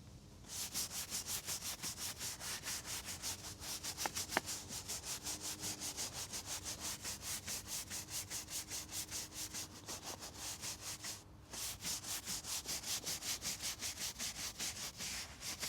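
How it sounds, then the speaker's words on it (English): A brush scrubs a dirty, weather-battered gravestone in rapid, even back-and-forth strokes, a close, steady rasping rhythm with one brief pause partway through. "let's give it a scrub, see how it comes up"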